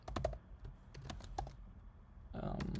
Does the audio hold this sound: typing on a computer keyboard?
yes